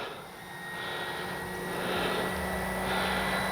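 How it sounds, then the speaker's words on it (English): An FMS Fox 3m RC glider passes by outdoors, a steady airy whoosh with faint motor tone that slowly swells as it nears, loudest toward the end, with no talking. "Get another flyby in this direction."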